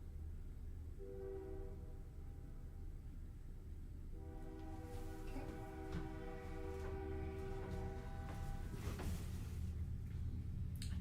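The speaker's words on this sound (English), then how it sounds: "Oh, happy train." A passing train sounds its horn in long, sustained blasts, heard at a distance over a steady low rail rumble that grows slightly louder toward the end, with no talking.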